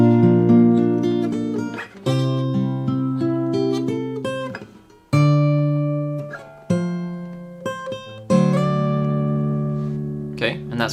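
Fingerstyle acoustic guitar plays the outro of a piece from the Lord of the Rings soundtrack, with ringing chords and picked melody notes in gentle phrases that swell and decay; close and solo, with no voices.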